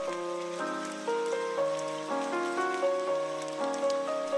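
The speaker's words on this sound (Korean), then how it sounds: "비가 내리는군요." Steady rain falls beneath soft, stepped piano-like music notes, a continuous pattering hiss running through the whole passage with no talking.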